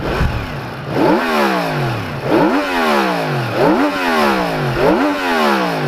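A Yamaha MT-10 motorcycle engine revs up and drops back four times in a steady rhythm, each sweep climbing sharply then falling, loud and close over an idling clatter.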